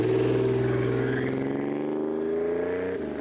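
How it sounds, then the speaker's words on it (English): Growling engine exhaust, a dual six-inch pipe Fiero or a two-stroke Vespa, recorded for Halo 3 vehicle sounds: a loud, sustained tonal drone that slowly sags in pitch, close and alone, before cutting off near the end. "Then you got this really growly, 4-stroke, huge sounding exhaust"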